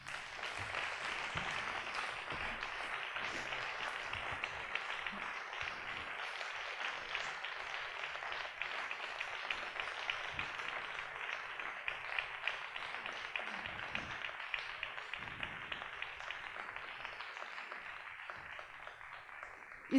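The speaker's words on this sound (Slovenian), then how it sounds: "vas pa da glasno in ponosno zaploskate" An audience at an award presentation applauds steadily for the full length, a dense even wash of clapping heard from a moderate distance with no voices over it.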